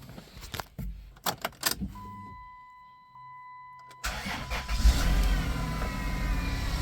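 A 2000 Chrysler Grand Voyager SE minivan engine cranks and catches, settling into a steady loud running idle after a few clicks and rattles.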